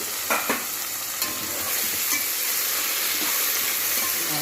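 Tomatoes soften in a covered pan, a steady broad sizzle and hiss with a couple of brief knocks near the start, close and with no talking.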